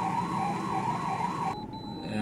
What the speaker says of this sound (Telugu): ఒకదాని వెంట ఒకటి అంబులెన్స్ వెళ్తున్నాయి, వాటికి కూడా దారి లేదు